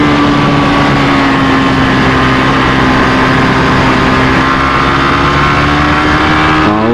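A Suzuki GSX-S150 motorcycle engine revs high and steady on a road ride, a loud continuous drone with rising harmonic tones and heavy wind rush, ending with a quick pitch shift as revs change.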